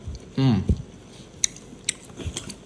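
Close, wet chewing and biting on gum from a Pokémon figure candy pack, a few soft smacks and clicks spaced out, with a brief vocal hum near the start.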